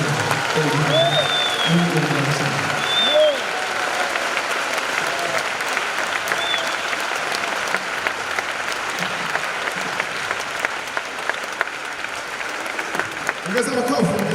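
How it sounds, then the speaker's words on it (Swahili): A conference audience at a live business gathering claps in loud, sustained applause that fills the space, while a voice speaks over it and brief whoops and cheers rise from the crowd. "Ongeza makofi, ongeza makofi, ongeza makofi."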